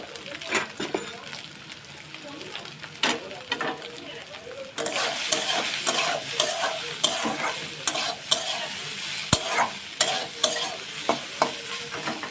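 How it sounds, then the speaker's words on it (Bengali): Soybean chunks, washed and salted with a pinch of turmeric, fry in hot oil while a spatula stirs them, rhythmic scraping strokes over a continuous close sizzle that grows louder midway. "সোয়াবিনগুলো ভালো করে ধুয়ে জল ঝাড়িয়ে নিয়ে ভেজে নেব অল্প একটু লবণ এক চিমটে হলুদ দিয়ে ভেজে নেব"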